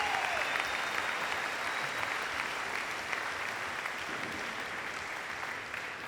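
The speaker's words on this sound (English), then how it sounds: "that alone deserves a huge round of applause for the class of 2025" Steady, dense applause from the crowd at the class of 2025 graduation ceremony, continuous and even for the whole stretch, with no voices above it.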